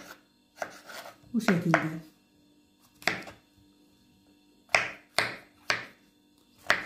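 A knife dices food into small cubes on a cutting board, giving a handful of sharp, separate chops spaced irregularly and close by, with a brief voice speaking near the start.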